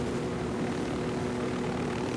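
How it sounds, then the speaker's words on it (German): Helicopter in the video game Ghost Recon Wildlands, a continuous whirring rotor and engine drone holding steady at moderate loudness with no voices over it. "Mit dem Helikopter ist das schon sehr krass."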